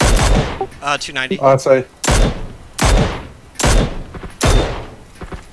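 Repeated sharp gunshots in an online shooter game, five loud cracks spaced about a second apart, following a short burst of speech from a player.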